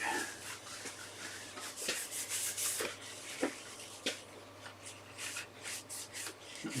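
A rag rubbing and wiping across a piece of timber to clear off gunk, soft scratchy strokes repeating in quick irregular bursts, close and quiet over a low steady hum.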